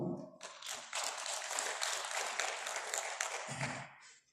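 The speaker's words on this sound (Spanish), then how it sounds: "recibamos con fuertes aplausos al hermano Flavio" Applause from an audience at a community meeting of Aymara people, a dense wash of many hands clapping that swells in quickly, holds steady for several seconds, then tapers off near the end.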